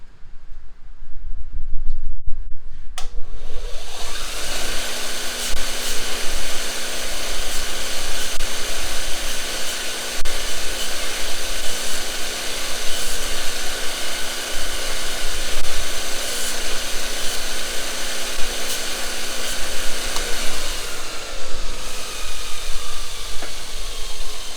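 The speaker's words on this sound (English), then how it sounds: "let me hit them in the belt grinder and see if it comes out any better" Belt grinder grinding metal, a loud, steady whirring roar with a hissing edge that starts abruptly after a few seconds of quiet and runs continuously before fading near the end.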